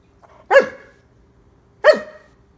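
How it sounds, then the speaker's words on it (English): A Doberman barks twice, loud and close, with a pause of over a second between the two sharp barks. "Hey, are you barking at me?"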